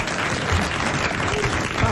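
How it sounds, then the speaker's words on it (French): Studio audience applauding a contestant on a 1987 French television game show, steady dense clapping filling the whole moment at an even level, with a few indistinct voices mixed into it. "Je vais vous demander d'applaudir monsieur Le Dunois de Caen."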